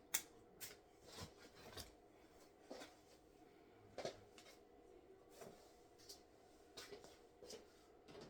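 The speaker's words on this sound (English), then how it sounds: "Just gonna see if I can use these garden shears" Garden shears snipping during spring seed starting, faint, sharp cuts repeating roughly every second in a quiet room.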